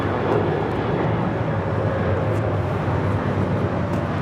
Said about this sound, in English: 2170 taking off to Denver, Colorado on a 737-900ER